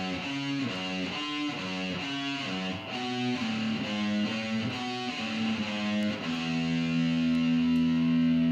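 An electric guitar plays a rock medley riff of chunky, repeating chords in a steady rhythm, ending on a long sustained chord; close and moderately loud, with no voices.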